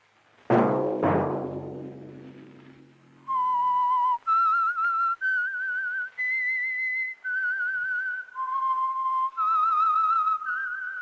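A couple of low resonant tones open, then a clear melodic whistle plays a short tune of sustained notes, loud and close with no talking.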